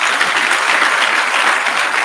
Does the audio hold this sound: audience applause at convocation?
yes